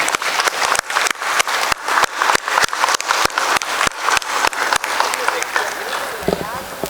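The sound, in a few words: standing ovation applause for the entire committee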